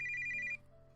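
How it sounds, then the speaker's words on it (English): A phone ringing with an electronic tone, a bright steady ring that cuts off partway through, leaving a quiet room hum before a faint blip. "my phone rings"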